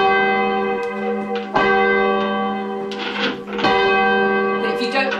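A great church bell rung at Great Bedwyn, loud resonant strikes with long ringing overtones swelling and overlapping, while people talk quietly nearby.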